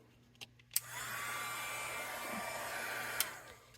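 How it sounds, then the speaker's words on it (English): A craft heat tool blows hot air over a paper craft project with a steady, loud, breathy whoosh that starts after a couple of clicks and runs without a break. "Then we're going to hit it with the heat tool again."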